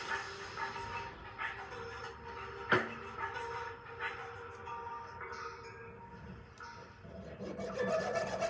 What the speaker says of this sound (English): Each one of these rods I'll round off as well using a cut burr